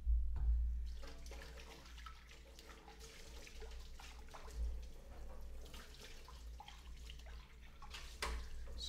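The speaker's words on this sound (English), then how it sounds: "It seems to be rinsing pretty easily." Running water rinsing a bowl washed with Dawn Platinum dish soap at a sink, a steady splashing stream with a low rumble and occasional louder splashes.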